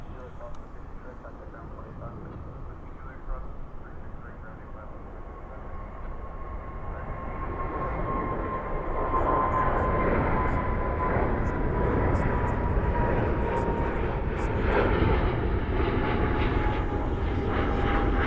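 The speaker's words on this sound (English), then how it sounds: "Here comes this 777. Oh, 777 landing." A Boeing 777 lands at night at Dallas/Fort Worth airport, its engine roar swelling from a steady broadband rumble to a louder, closer whine with a sustained tone, while a person talks intermittently over it.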